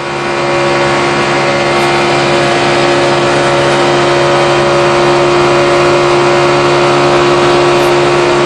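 A NASCAR Sprint Cup stock car engine at the 2011 Good Sam Club 500 at Talladega, heard from the in-car camera, holds a loud, steady, constant-pitch roar throughout.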